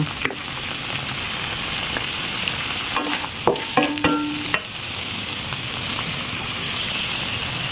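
Chinese kale with fresh shrimp stir-fries in a hot pan with a loud, continuous sizzle, broken by a cluster of spatula scrapes and metallic clanks midway, with no talking.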